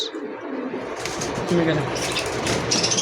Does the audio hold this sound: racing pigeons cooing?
yes